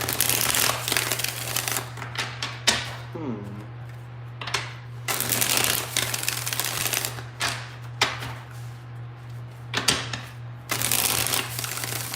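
Tarot cards are shuffled in repeated rustling bursts, close up, over a steady low electrical hum, with a brief voice in between.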